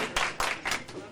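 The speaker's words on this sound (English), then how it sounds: "Applaud if you believe it was Luigi and Stella Boboli, the heads of the Boboli family" An audience at a murder mystery play during a Valentine banquet gives a few quick, sharp bursts of clapping, fairly close and brief, with a speaking voice nearby.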